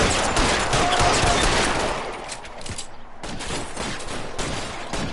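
Shotgun fire from a police shootout in the video game L.A. Noire: a dense, rapid volley of blasts that rattles on for a couple of seconds, then eases into a slightly quieter spell of shots and echoing debris.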